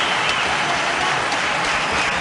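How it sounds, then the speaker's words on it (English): Cricket stadium crowd at a 1997 India versus Pakistan match applauding a batsman's fifty, a loud, dense and steady roar of clapping from a large distant crowd. "Yes, he deserves the applause."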